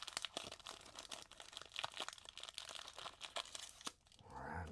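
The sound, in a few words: opening a 1991 Bowman baseball card pack wrapper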